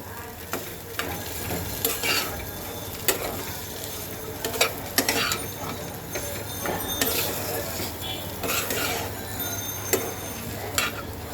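A fish curry with peas and mashed potato sautés in a pan, giving a steady sizzle broken by repeated scraping and stirring strokes and light clinks of a utensil, heard close up.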